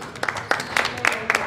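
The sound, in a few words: audience applause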